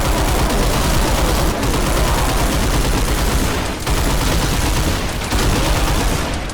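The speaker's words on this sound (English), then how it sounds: "The gunshots alone sell this game" Rapid, heavy gunfire from the 1993 Doom mod Brutal Doom, dense and loud throughout with only brief gaps between bursts, sounding like sustained automatic weapon fire and shots layered close together.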